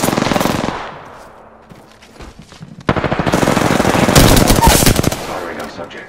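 Rapid video-game automatic gunfire from an Alternator: a loud close burst, a short lull with fading echoes, then a longer sustained volley, with a voice talking faintly underneath.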